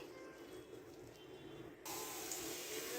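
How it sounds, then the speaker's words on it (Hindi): Onions frying in hot oil in a kadhai: a faint, steady sizzling hiss that grows brighter and louder partway through. "अब हम एक कढ़ाई के अंदर ऑयल गरम करेंगे। 2 अदद हमने प्याज लिए हैं, ऐड करेंगे। इनको फ्राई करेंगे।"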